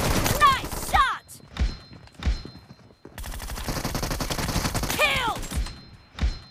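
Rapid gunfire bursts from the mobile battle royale game PUBG Mobile, loud repeated volleys with thuds between them, under excited voices and short game sound effects.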